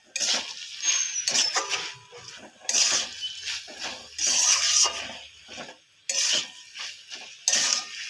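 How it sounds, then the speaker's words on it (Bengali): A utensil scrapes and clinks against a pan while stirring salted chopped banana flower, in irregular bursts of scraping with short pauses between strokes. "নুনটা দিয়ে ভালোভাবে মোচাটা নেড়ে নিচ্ছি।"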